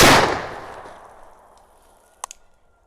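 A single loud gunshot at outdoor target practice cracks close by and rolls away in a long, fading echo, followed by a couple of faint, distant metallic knocks.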